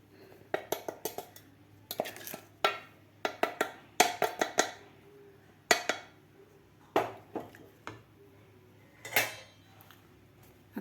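A spoon scraping and clinking against a pan as sugar is stirred into semolina over a gas flame, in quick irregular bursts of metallic scrapes, close and fairly quiet, with no talk.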